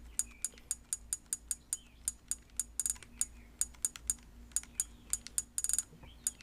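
Rapid clicky key presses on a Sony PSP 2000 handheld while entering text in its internet browser, an uneven run of sharp close taps with brief pauses between bursts, alone with no voices.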